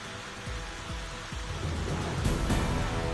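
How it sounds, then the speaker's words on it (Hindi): Heavy rain pours down in Surat, Gujarat, in a storm with lightning and strong winds, a steady dense hiss with a few low thumps early on that builds louder toward the end. "गुजरात के सूरत में जमकर हुई बारिश।"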